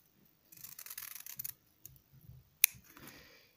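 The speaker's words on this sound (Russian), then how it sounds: "Вот так я обрезаю." Scissors cut satin ribbon for kanzashi crafting in a few short, close, quiet snips and rustles, with one sharp click partway through.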